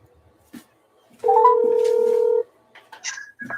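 A telephone being dialed to place a call gives a sustained electronic tone lasting about a second, with faint clicks before it and brief, quiet handling noises after.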